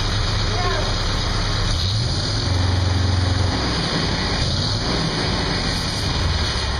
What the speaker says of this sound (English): Bill, just crack that throttle once so they can hear it.